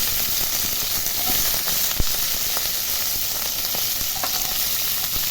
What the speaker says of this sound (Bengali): তেল গরম হয়ে গেছে, এবার আমি এক এক করে সবজিগুলো তেলের উপরে দিয়ে দিচ্ছি।